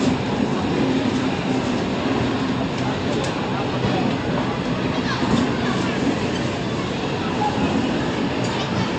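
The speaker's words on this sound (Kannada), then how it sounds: "ಇವಾಗ ಬರ್ತಾಯಿದೆ ಗಾಡಿ, ಅದು ಮೈಸೂರಿಂದ." An express train from Mysore rolls into a Bangalore station platform, a loud continuous rumble of wheels and carriages close by, with people talking over it.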